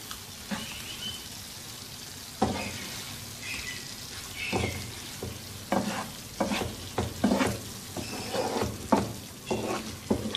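Chicken tikka pieces sizzle steadily on a hot tawa while being turned, with repeated scraping and clinking of a utensil in irregular bursts over a continuous frying hiss, close up and without talk.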